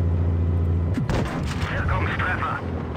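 A Tiger (P) tank cannon fires in World of Tanks Blitz, one loud booming shot about a third of the way in, its blast and rumbling tail ringing out over a steady low engine drone.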